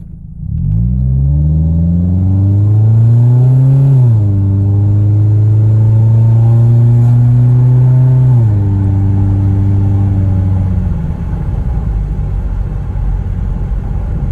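A deep, throaty Evil Energy aftermarket car exhaust drones loudly as the engine pulls steadily at quarter to half throttle, pitch rising and shifting with gear changes before easing off into road rumble.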